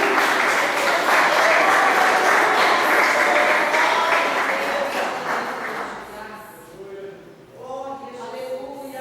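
A church congregation gives a loud, sustained round of applause that fades after several seconds, after which a voice speaks.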